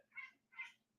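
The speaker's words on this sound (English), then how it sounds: "He saw a bug, so now he's chirping at it." A cat chirps at a bug indoors, giving two short, bright trilling chirps in quick succession over a quiet room, close and fairly soft.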